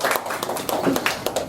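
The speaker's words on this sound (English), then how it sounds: "Let's give a clap of it to our Father." At a Thanksgiving combined church service, the congregation claps in a loose, scattered burst of hand claps with faint voices mixed in.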